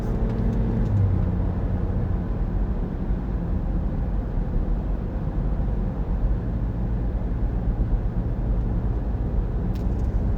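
A new Toyota Prius taking a turn at Watkins Glen race track during the 2023 Green Grand Prix, heard as a steady, loud cabin drone of road and engine noise under light throttle, unbroken throughout.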